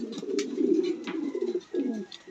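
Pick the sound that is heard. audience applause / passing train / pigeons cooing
pigeons cooing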